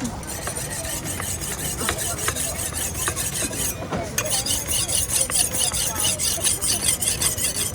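Knife blade being sharpened, repeated rasping rubs and squeaky scraping strokes in a steady back-and-forth rhythm, close and fairly loud with no talk.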